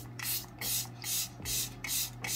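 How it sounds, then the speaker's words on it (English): Rare Beauty setting spray misted over a face in a run of about five short, close pump bursts, each a soft airy hiss with brief pauses between, over a low steady background hum. "I'm gonna go in with a Rare Beauty and just spray my whole face in it."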